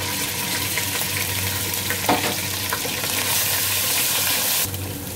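Onions with ginger garlic paste sizzle loudly in a pan for biryani as water is added, a dense crackling hiss with a brief splash and stirring, steady and close.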